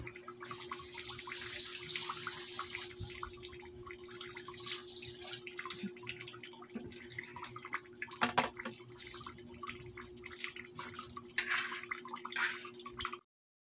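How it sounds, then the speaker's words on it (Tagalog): Water pours and splashes into a cooking pot holding chopped sayote in a home kitchen, a faint running trickle with scattered drips and a few louder splashes. "Ilagay natin ang tubig."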